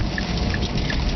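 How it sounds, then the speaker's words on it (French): Rain falls outdoors in a dense, steady wash of patter and hiss, fairly loud and close, with no voices over it. "Là, il mouille. Puis je déteste la pluie."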